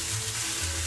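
Food searing in a hot pan, a brief dense sizzle close up and without talk.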